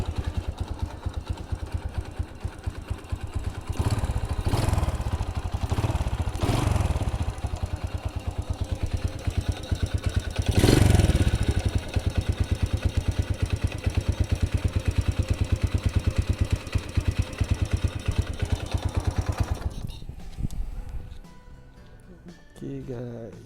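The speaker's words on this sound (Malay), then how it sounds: "Mari kita start sikit engine," Honda EX5 Dream motorcycle engine catching and idling with a steady putter and clatter, a brief rev midway, close and loud, before cutting off near the end.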